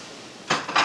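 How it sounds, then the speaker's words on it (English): A plate being picked up in a kitchen, two quick close ceramic clinks and scrapes following a quiet pause. "I forgot a plate, so let me grab that as well."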